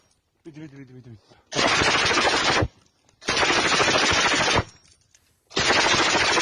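Rapid automatic gunfire from war footage of fighting in Ukraine comes in three long, loud, sustained bursts separated by short pauses, with a brief voice heard just before the first burst.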